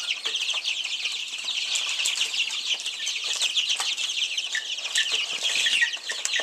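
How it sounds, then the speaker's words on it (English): A crowd of three-week-old chicks peeps and chirps continuously in an indoor brooder, a dense high-pitched chatter of many birds close by with no pauses. "This is a lot of chickens for this space."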